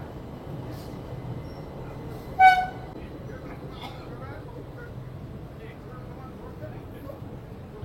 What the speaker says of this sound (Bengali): আমাদের ট্রেন কিন্তু এখন সেই স্পিডে ছুটছে